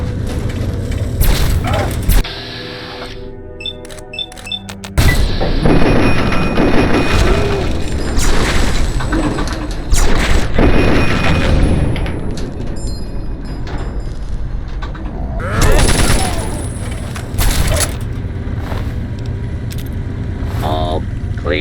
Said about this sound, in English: Firing weapons.